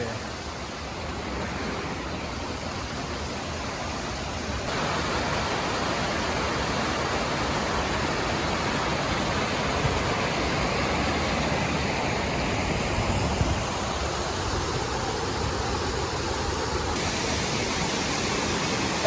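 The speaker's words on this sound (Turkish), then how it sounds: "Ha, Aras Şelalesi'ne geldik." Steady rushing water of the Aras Waterfall on Uludağ roars continuously, a broad even hiss like falling water heard nearby, unbroken for the whole stretch.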